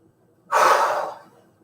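Single loud exhale as a person catches their breath after jogging in place during a workout, a close, breathy rush lasting under a second that fades out.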